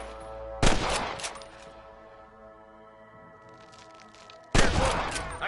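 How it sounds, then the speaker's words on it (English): Two loud bursts of rapid gunfire in Red Dead Redemption, a few seconds apart, with a quiet stretch between them. "I can hear more gunshots"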